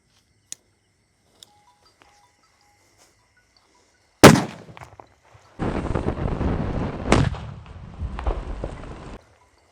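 Diwali firecracker bomb set off outdoors: a sharp, loud bang after a few faint clicks, then a long crackling, sputtering burst lasting several seconds with further pops, with no talking.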